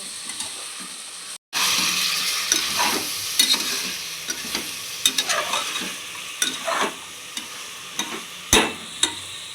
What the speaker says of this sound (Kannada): ನಂದು ಎಳೆ ಮಟನ್ ಆಗಿರೋದ್ರಿಂದ ಡೈರೆಕ್ಟಾಗಿ ನಾನು ಒಗ್ಗರಣೆಗೆ ಕೊಟ್ಟಿದ್ದೀನಿ